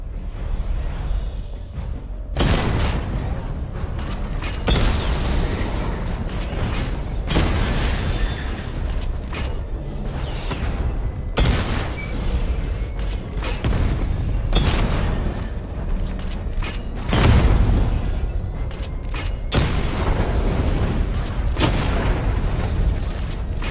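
Repeated heavy missile barrage explosions from the Batman: Arkham Knight video game, a series of loud booming bursts with rumbling low end, arriving in waves every few seconds over steady mechanical game noise.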